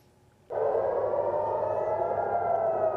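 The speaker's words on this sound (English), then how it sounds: "Air raid sirens continue to echo across Israel" Air raid sirens in Israel during rocket fire from Gaza start abruptly after a short quiet moment, then hold a steady, loud wailing tone that carries on without a break.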